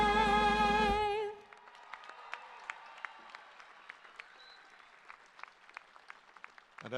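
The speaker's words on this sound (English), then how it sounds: "Another big cheer for our signers and for Linda Melendez, our vocalist." Commencement audience applause begins after a sung anthem ends abruptly, then scattered sparse claps spread thinly across a large outdoor crowd, fairly faint and distant.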